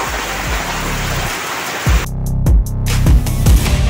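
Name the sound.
rain falling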